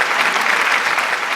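Steady, dense applause from a studio audience on a talk show greeting new staff hires, loud and continuous with no break for the whole moment.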